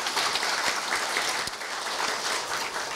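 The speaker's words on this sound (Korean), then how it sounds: "감사의 박수를 부탁드립니다." An audience claps continuously in a dense, even burst of applause at a university staff retirement ceremony, fairly loud and with no voices over it.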